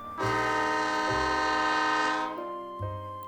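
A train at a Lahore railway station sounds a loud sustained horn in steady tones that cut off and restart briefly, close and dominating, with no voices.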